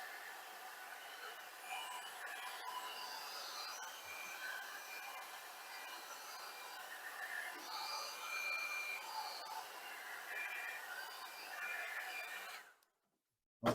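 A heat gun blows hot air onto the adhesive of peel-and-stick backsplash tile, a steady airy whir running close and unbroken for about twelve seconds before cutting off abruptly.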